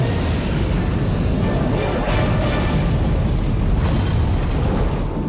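Loud, sustained roar of missiles launching and a Gauss cannon firing in the Halo universe, dense rumbling blasts filling the whole stretch without pause.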